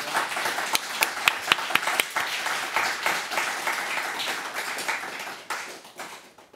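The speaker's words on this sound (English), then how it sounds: "Why don't we give them a big round of applause?" A church congregation at a Korean mission gathering claps, with sharp distinct hand claps standing out at first, then settling into steadier applause that fades toward the end.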